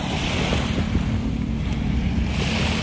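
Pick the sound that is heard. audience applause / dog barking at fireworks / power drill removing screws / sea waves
sea waves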